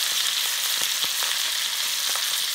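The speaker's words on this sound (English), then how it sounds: "sear the edge like that." A steak stood on its edge sears in a Le Creuset grill pan with an even, close sizzle and a few soft taps and pops scattered through it.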